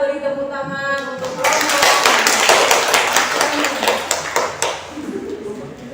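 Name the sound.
class clapping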